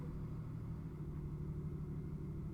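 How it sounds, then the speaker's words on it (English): A garbage truck outside, heard indoors as a low, steady engine rumble idling at moderate distance, continuous and even with no talking over it. "it sounds like the garbage truck is here"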